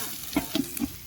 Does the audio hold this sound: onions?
yes